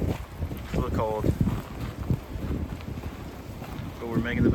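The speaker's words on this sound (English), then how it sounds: "It's a little windy," Wind buffets a cold winter mountainside camp in loud, rumbling gusts that roar across the microphone, with people talking intermittently underneath.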